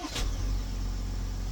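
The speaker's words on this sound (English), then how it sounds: "See, my car even started." A car engine catches and settles into a steady low idle, heard close and alone after a brief burst at the start.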